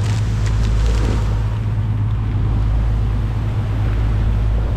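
New boat engines run during a final sea trial with the vessel loaded, a loud, steady low rumble with wind or water noise and no speech.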